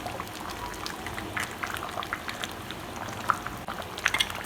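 Ground coconut and tamarind paste goes into a crab curry boiling in a village-style kitchen, making a close, soft pour and slosh over steady bubbling, with a few brief splashes near the end.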